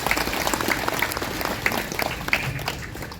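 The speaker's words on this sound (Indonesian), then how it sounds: "Kita tepuk tangan untuk Tuhan ya." Congregation applauding inside a church during a thanksgiving Mass for a newly ordained priest, a dense, steady wash of many hands clapping throughout, moderately loud with no speech.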